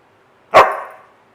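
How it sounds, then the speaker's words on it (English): A single sharp doodle dog bark, loud and close, ringing briefly before fading into quiet. "The barking will subside."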